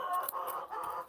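Chickens cluck at a backyard coop on a Sunday morning, several short overlapping calls in quick succession, close and moderately loud with no voices.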